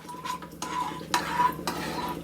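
A spoon stirs a water mixture heating in a pot for kozhukkattai, with steady scraping strokes and a faint sizzle underneath, close by.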